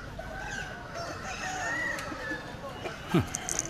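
Chickens and roosters at a forest village market, with clucking and a short crow among background chatter and crowd noise, and a sharper squawk near the end.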